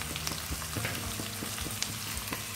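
Onions and capsicum frying in a pan for chilli paneer make a soft, even sizzle with light stirring taps, close but fairly quiet, with no voices.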